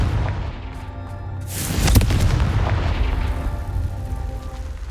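A Confringo fire spell explodes in Hogwarts Legacy, a deep booming blast that swells to a sharp peak, then rumbles and fades under steady game ambience.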